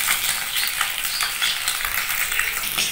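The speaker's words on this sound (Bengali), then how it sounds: "দেখো আমি না এইভাবে ভেজে নিচ্ছি" Eggs fry in a pan for egg biryani, giving a steady, bright sizzle with soft scraping and stirring clicks, close and continuous without any talking.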